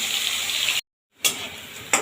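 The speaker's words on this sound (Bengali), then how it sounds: "নতুন আলু তো একটু হালকা ভেজে নেব খেতে ভালো লাগবে তাহলে আর দিয়ে দিলাম সিমটা" New potatoes and flat beans frying in hot oil with nigella seeds give a steady, close sizzle that drops out for a moment, then resumes with a sharp crackle.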